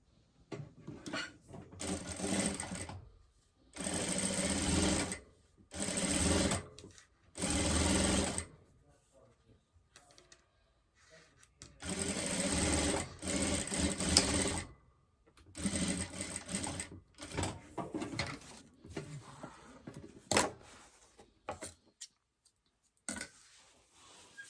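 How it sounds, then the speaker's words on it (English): A sewing machine stitches a quarter-inch seam across the top of a zippered pouch pocket, running in repeated loud buzzing bursts of a few seconds each, separated by short pauses, close and alone. "I'm going to sew just the top together at a 1/4 inch seam allowance."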